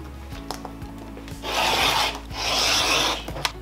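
Quilted fabric blocks being trimmed square, a close, steady rasping cut or rub in two sustained strokes after a few faint clicks, with no talking.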